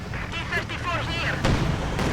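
Explosions and gunfire in the real-time strategy game Company of Heroes 2, with a flare mine going off among muffled blasts and crackling bursts, dense and continuous at moderate loudness with no speech over it.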